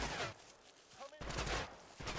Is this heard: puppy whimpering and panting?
no